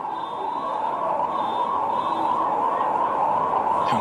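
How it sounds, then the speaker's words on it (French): Emergency sirens wail outside the Stade des Martyrs stadium during a RD Congo versus Senegal World Cup qualifying football match. The tone is a continuous, steady, wavering drone that holds at an even, moderately loud level throughout. "on entend autour de la pelouse les sirènes"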